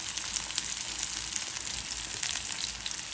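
Garlic, onion and green chillies frying in hot oil with a panch phoron tempering, giving a steady, close, even sizzle with no pauses or voices.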